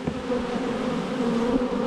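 Honey bees buzz loudly and steadily in a continuous, agitated drone while their hive is opened and pulled apart for inspection, close up with no talking.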